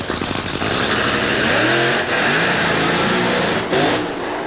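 A Bud Dodge Daytona drag car launches hard at Santa Pod, its engine roaring loud and close with rising, shifting revs across the whole run, a brief dip midway and another surge near the end.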